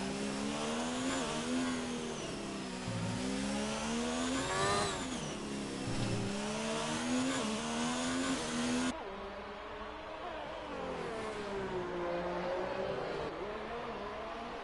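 Racing car engines in the F1 2019 video game whine loudly and steadily on track, pitch rising and falling through gear shifts as cars pass, with no talking.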